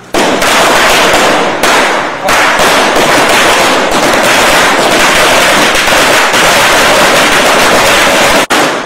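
Dense, continuous crackling bursts of Diwali firecrackers exploding, loud and close, a rapid chain of bangs with hardly a pause, broken only by one brief dip near the end.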